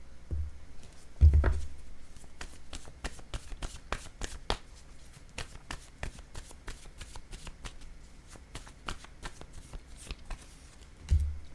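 Word cards being shuffled, a run of quick crisp riffling flicks, close and fairly faint, with a couple of louder thumps at the start and end.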